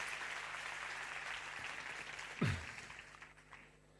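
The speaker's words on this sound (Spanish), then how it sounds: "Un aplauso." Audience at a lecture on inverted pendulums and their equations claps for the speaker, with soft, distant, steady applause that fades toward the end, and a brief low thump partway through.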